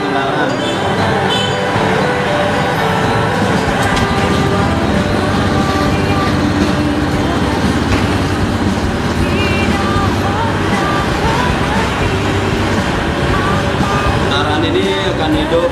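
A vehicle engine idles steadily during an injector cleaning process. The running drone is loud and continuous, with speech partly over it.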